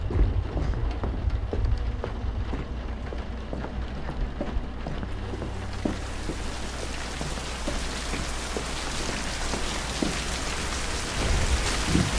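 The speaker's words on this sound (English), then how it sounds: "Going back into the rainy castle." Steady rain falls in a castle in the video game Infernium, a constant hiss of drops on surfaces with low rumbling beneath, no voices.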